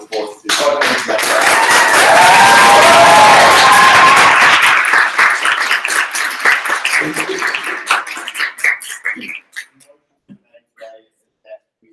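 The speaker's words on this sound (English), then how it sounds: "Give it a round of applause to" At a debating championship, an audience breaks into loud applause with shouts and cheers, building and holding for several seconds before thinning to scattered claps and fading out, with voices mixed in.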